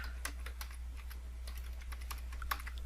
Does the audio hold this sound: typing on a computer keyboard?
yes